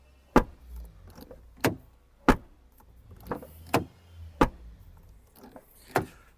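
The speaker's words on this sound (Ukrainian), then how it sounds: "І слухаємо, як закривається дверка зараз." A car door fitted with a rubber lock damper on the latch shuts several times in a row, each close a sharp, solid thud followed by a short pause before the next.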